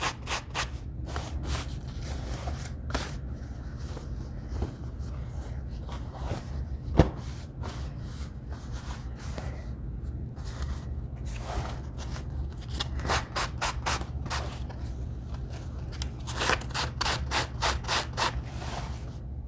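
Sandpaper rubbed over denim jeans to distress the fabric, giving steady scratchy strokes in bursts of varying speed, close and fairly quiet, with no talking.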